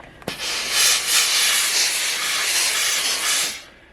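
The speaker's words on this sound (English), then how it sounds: "I can put the pressing ham in here and just kind of give it another round of steam" A steam iron hisses as it presses tweed cloak fabric shaped over a pressing ham, a sharp click followed by a loud, steady burst of steam lasting several seconds, close-up and alone.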